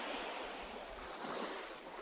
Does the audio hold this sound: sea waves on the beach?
yes